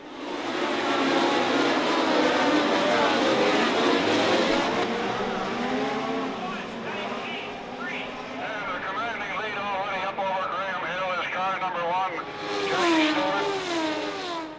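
Formula 1 race cars from 1970 rev and pull away at the start of a race. Their engine notes rise and fall in wavering pitch, loud and close, and may sit under a narrator's voice.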